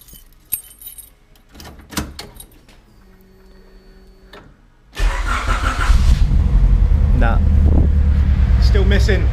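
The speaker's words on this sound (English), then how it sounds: "So let's start her up, see what happens." A Honda Civic EG6 with a misfire fault is started: keys jangle and click first, then the engine cranks and catches, idling loudly up close with an uneven, lumpy running note.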